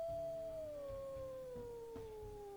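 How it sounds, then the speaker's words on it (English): In a wolf pack video game, a single long wolf howl sinks slowly in pitch from start to finish, steady and faint above a low, pulsing background hum, with no speech. "the howls alert your pack members."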